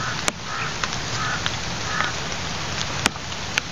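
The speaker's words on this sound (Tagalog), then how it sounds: "Tingnan mo, namumuti yung ulan" Heavy rain pours outdoors in a steady dense hiss, with scattered sharp drips or taps standing out, and a crow faintly cawing in the background.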